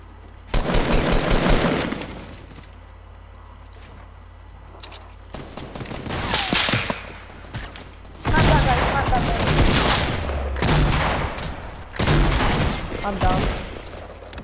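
Bursts of rapid gunfire from a Fortnite match, including a silenced pistol, crackling in loud volleys with pauses between, while players talk over the action.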